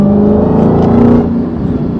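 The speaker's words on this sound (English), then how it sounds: "That supercharger wine" Supercharged car engine, a Track Hawk style SUV, revving with a loud droning whine and engine rumble up close, swelling briefly then easing off.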